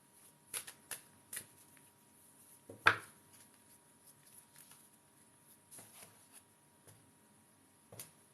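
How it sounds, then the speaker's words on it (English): Cards being shuffled for a tarot or oracle reading, with soft scattered taps and riffles spaced irregularly and one louder slap early on, close-up and quiet with no talking. "Let's shuffle, shuffle."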